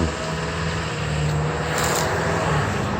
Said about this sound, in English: This is a school bus. I guess they're allowed to be noisy.